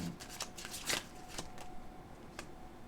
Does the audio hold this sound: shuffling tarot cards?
yes